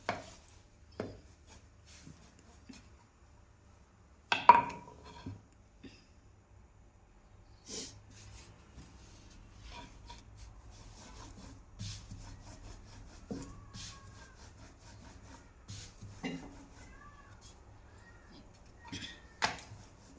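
A rolling pin rolls out paratha dough, giving faint wooden knocks and soft scraping rubs at an uneven pace, with a few sharper taps over near silence.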